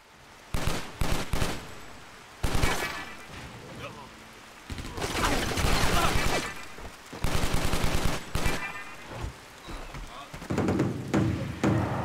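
Gunfire in the action video game Stranglehold: several loud bursts of rapid shots crackle in clusters across the stretch, with short pauses between volleys and a faint background of game ambience.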